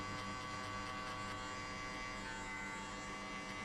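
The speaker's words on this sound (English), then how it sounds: "I close the clipper halfway and hit only on the middle" Electric hair clipper set to half-inch depth, buzzing steadily and close during a mid skin fade haircut, a dense continuous hum with no talking.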